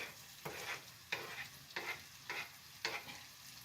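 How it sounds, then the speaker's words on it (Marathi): Tomatoes stirred into a pan of frying onion and potato for a masoor usal, with five evenly spaced scraping, sizzling bursts over a steady low fry, close and moderately loud with no talk. "आता मी ह्याच्यामध्ये हे टॅमॅटो टाकत आहे"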